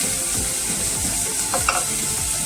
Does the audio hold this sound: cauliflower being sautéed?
yes